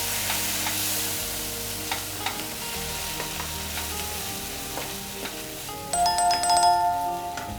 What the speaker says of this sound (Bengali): এবার এটাকে তেলে দিয়ে দিলাম।